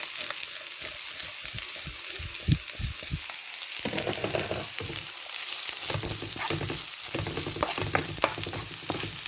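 Chopped banana flower fries in a pan with a steady sizzle while a spoon stirs and scrapes it in irregular clattering bursts, close and continuous, with no talking.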